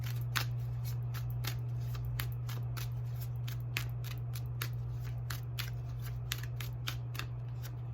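Tarot and oracle cards are shuffled repeatedly, a run of quick, crisp riffling snaps at a close, steady pace over a constant low hum.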